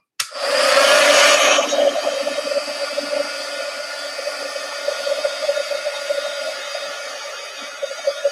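A heat tool switches on with a sudden loud whoosh and blows steadily for several seconds over wet paint on a journal page, settling into a constant airy drone.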